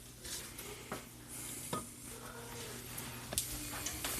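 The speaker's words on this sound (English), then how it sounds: "I'm going to mix them a little bit. Just to get our carrots up off the bottom." Vegetables and carrots are stirred in an electric skillet over a faint steady sizzle. A utensil scrapes and taps the pan now and then, close and quiet.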